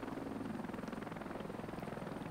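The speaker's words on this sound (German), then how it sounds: "wenn wir mit diesem Hubschrauber ins Gefecht ziehen" An ACH-47 Chinook twin-rotor helicopter in the combat game Heliborne flies with a steady, dense rotor throb and engine drone, continuous and even throughout.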